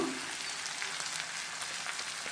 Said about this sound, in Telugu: ఇవి ఇలా ఎండు చేపలు కొద్దిగా ఫ్రై అయ్యాక